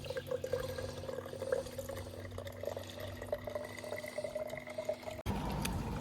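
Water trickles steadily into a bottle during a bikepacking tour in Switzerland, a faint filling tone running under outdoor ambience, then a sudden clunk near the end.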